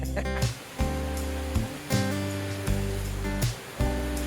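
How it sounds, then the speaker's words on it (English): A small waterfall cascade on a mountain creek in the Great Smoky Mountains rushes steadily, a continuous broadband wash of water with a few soft surges, fairly close and with no one speaking. "Beautiful little cascade here. I think this is Chasten Creek Cascades."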